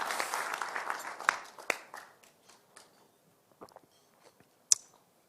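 Applause from a seminar audience, a short burst of clapping that quickly thins out into a few scattered claps and small noises before fading to near quiet.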